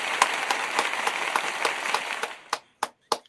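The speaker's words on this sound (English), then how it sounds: "Detectives, give our sister a round of applause." Audience applause at a morning radio show greeting a arriving co-host, a dense patter of clapping that thins out into a few loud separate claps near the end.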